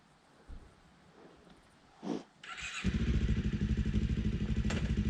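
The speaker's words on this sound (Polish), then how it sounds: "Jedzie CB500 po moście." A Honda CB500 motorcycle starts and rides over a bridge, with a couple of faint knocks and a brief burst before a loud, steady, throbbing engine note takes over close by.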